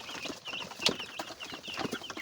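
A flock of two-month-old black koyla chickens on a village farm keeps up a continuous mix of clucks and chirps, close and moderately loud, with no talking.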